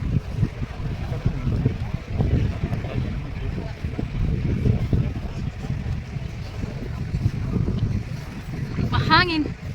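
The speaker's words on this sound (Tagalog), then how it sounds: "Ang hangin." Strong gusts of wind buffet the microphone outdoors in a Valencia street, a steady low roar that persists throughout while people talk nearby.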